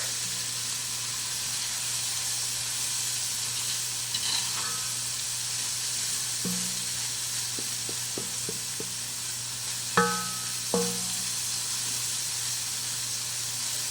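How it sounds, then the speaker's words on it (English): Onions and added ingredients sauteing in a hot pan, giving a steady, close frying sizzle and hiss throughout, with a few clinks and scrapes of stirring at intervals. "I'm just going to saute these in with the onions"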